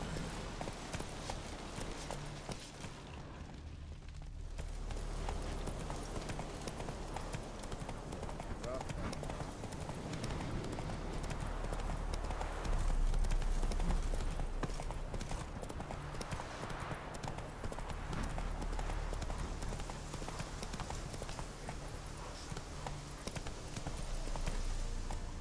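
Geralt's horse Roach in The Witcher 3, hooves clip-clopping at a trotting pace, steady and close, with a player's voice talking over the game sounds.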